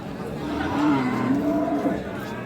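A single long, wavering moo from a nearby dairy cow at a village cattle market in Dinajpur, with a crowd murmuring and chattering in the background.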